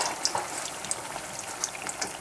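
Egg roll frying in a pan with a steady, quiet sizzle and scattered small pops and crackles, alone without talk.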